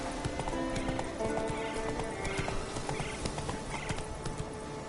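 Roach, a horse in The Witcher 3: Wild Hunt, gallops with a fast, steady clip-clop of hooves throughout, close and clear, over a constant ambient bed.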